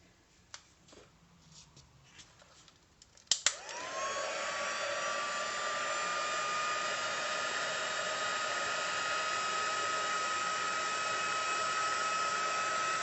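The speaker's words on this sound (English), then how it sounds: "let's get that embossing tool, heat tool out" A crafting embossing heat tool switches on after a few faint clicks and handling noises, then blows hot air in a loud, steady whoosh with a whine that lasts about nine seconds, with nothing else heard over it.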